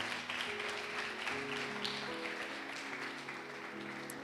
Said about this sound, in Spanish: Alguien déle un aplauso fuerte al Señor.